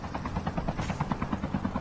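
A helicopter flown in a multiplayer shooter game sends out steady, loud rotor chop, a rhythmic pulsing thump that runs throughout with no talk over it.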